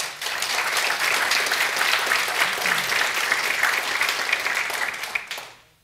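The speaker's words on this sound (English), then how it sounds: "please give the candidates, the community sponsors, the venue, and the volunteers a big round of applause" Audience at a county sheriff candidate forum breaks into a full round of applause, a dense, steady clapping from a sizable crowd that fades out near the end.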